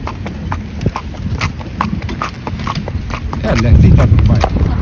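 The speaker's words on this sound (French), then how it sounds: "Et Baya c'est un cheval noir." A black horse pulls a tourist carriage through Meknes, its hooves clip-clopping steadily and loudly on the street while wheels and harness rattle, and someone talks over it.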